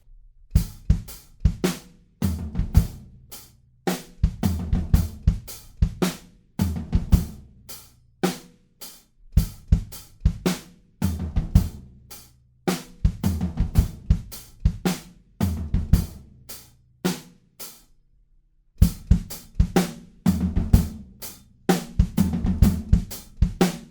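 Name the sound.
drum kit beat with changing kick drums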